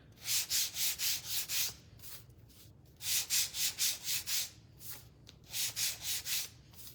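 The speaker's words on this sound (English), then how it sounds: "Now I'm gonna sand down my mixer." Hand sanding of a kitchen mixer for a farmhouse craft makes steady back-and-forth scratchy strokes in close bursts of four to six, separated by brief pauses.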